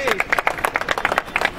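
An audience at an outdoor BJP election-campaign street play claps in quick, rhythmic bursts, close and lively, with voices mixed in.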